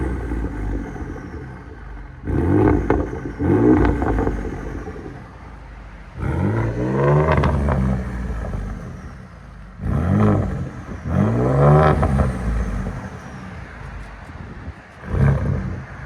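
A 2011 Ford F-150 EcoBoost FX4 fitted with a Dynomax race bullet exhaust revs in several separate bursts, each a deep, smooth rising roar that falls back to a low idle rumble between blips, heard close and fairly loud.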